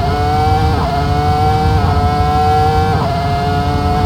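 A Ferrari V10 screaming near 19,000 RPM in a virtual-reality racing simulator, a loud high-pitched engine wail with quick upshifts that briefly dip and then climb again in steady succession.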